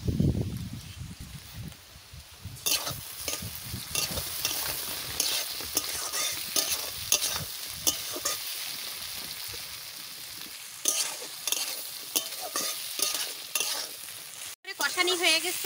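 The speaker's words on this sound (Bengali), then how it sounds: "বন্ধুরা যে মশলাটা আমি বাটিছি সেই মশলাটা এর সাথে দিয়ে আমি কষাই নেব" Ground spice paste sizzling with vegetables in a pan while a spoon stirs and scrapes in repeated strokes, a close steady fry with brief louder bursts and no voices.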